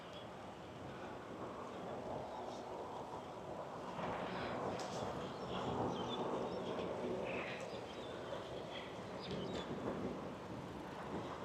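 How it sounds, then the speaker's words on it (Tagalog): Strong wind blows on a bridge in Taiwan, buffeting the microphone with a steady, faint rushing rumble and occasional gusty thumps throughout. "Grabe yung hangin. Ewan ko narinig sa mic."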